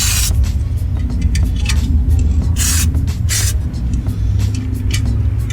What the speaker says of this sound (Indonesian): Semprotkan tipis-tipis saja.